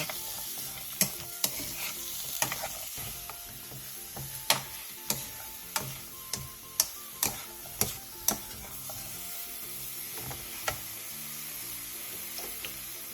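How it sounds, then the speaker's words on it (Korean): Zucchini stir-fries in a dry pan over medium-low heat, a soft low sizzle under a run of sharp spatula clicks and taps that come in a fairly regular rhythm through the middle stretch. "마른 팬에 애호박을 넣고 중약불에서 호박이 노란 빛을 띠고 살짝 흔들었을 때 살랑거릴 정도로 볶아주세요"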